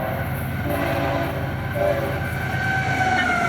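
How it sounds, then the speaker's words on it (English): An FEC freight train approaches in Miami, its horn sounding in sustained blasts over a loud, steady rumble of rolling wheels and engine. "Step a little bit away as the train gets closer."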